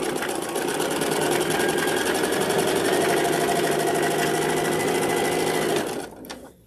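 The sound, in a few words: sewing machine stitching quilt binding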